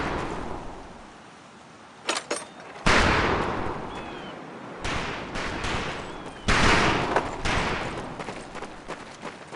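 Rifle and heavy weapon gunfire on a boot camp firing range in Medal of Honor: loud, irregular shots and booming blasts with long rumbling tails, separated by short quiet gaps, with no talking.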